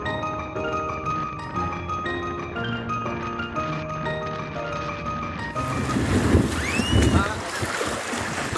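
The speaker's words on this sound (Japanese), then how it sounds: "風が強いんで帽子を飛ばされた人がいます" Strong wind gusting across a long stone pier on Taketomi Island, rising into loud buffeting and rumbling microphone roar in the second half after a steadier, tonal opening.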